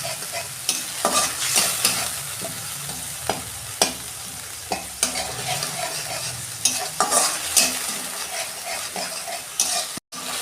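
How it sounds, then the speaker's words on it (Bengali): Ginger-garlic paste and black cumin fry in hot oil in a pan for a fish curry, a loud steady sizzle broken by repeated sharp scrapes and knocks of a spatula stirring. "এইটাকে একটু কষাবো।"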